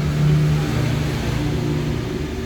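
Suzuki Alto engine running rough with a misfire, a close, loud low-pitched hum that wavers unevenly over a few seconds, with no talk.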